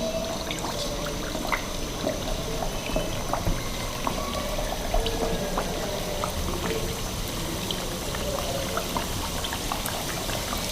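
Chicken cheese samosas fry in hot oil, a steady close bubbling and crackling sizzle with small pops scattered throughout.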